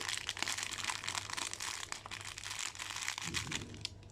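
A plastic bag of powdered milk being emptied into a batter mixture while baking basbousa: steady, close crinkling and rustling of the plastic goes on throughout, with a brief soft thud near the end and no talk.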